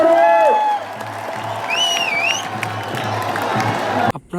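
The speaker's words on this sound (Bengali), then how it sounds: "করতালি হবে, করতালি জোরে জোরে করতালি" A crowd cheers and claps loudly at a football match, broad roar and applause running throughout, with whistle-like whoops and a voice rising over the noise.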